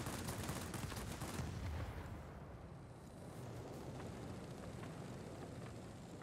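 Rapid anti-aircraft gunfire from a Wargaming video game, a dense burst of loud, rattling shots for about two seconds, then a sustained rumbling wash of continued fire and explosions.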